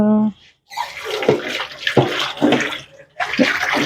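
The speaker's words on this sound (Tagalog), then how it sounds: "ito naman ay hugasan ko yung aking mga pinagamitan kanina" Used cooking utensils are washed under a running tap, with loud, close water rushing and splashing that stops for a brief moment before starting again.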